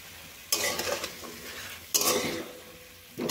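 A spoon scrapes and stirs through spices in a frying pan for a vegetarian navratan korma, three distinct bursts of scraping with soft sizzling between them, close and fairly loud.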